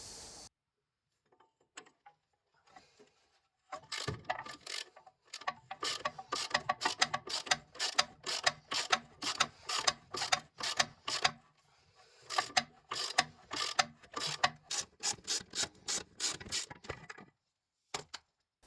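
A hand ratchet works loose the shock absorber bolts on a Jaguar XJ6/XJ12/XJS front suspension, clicking in rapid bursts of rhythmic strokes with brief pauses between, close and clear with no talking.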